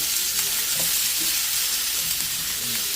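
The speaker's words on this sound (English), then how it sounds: "We're going to let that blister on up, cook, sear." A picanha steak sears in a hot pan, giving a loud, steady, close sizzle with crackling hiss throughout and no voices.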